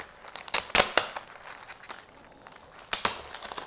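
Tape tearing away from bubble wrap on a comic book package, a few sharp crinkling rips near the start and another near the end, close and crisp between quieter rustles.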